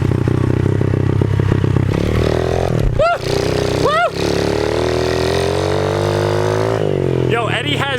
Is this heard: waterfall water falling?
no